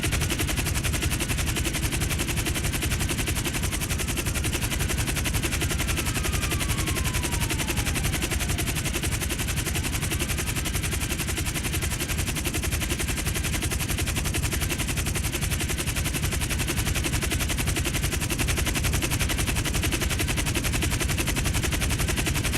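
Sustained automatic gunfire from security guards in GTA 5 Online, a continuous loud barrage of rapid shots with no pauses, layered over dense game noise and a faint descending whine.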